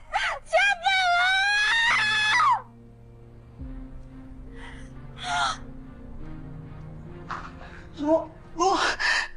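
A girl in her room lets out a loud, sustained scream and wail, then breaks into scattered gasps, sobs and shorter cries over a low background hum.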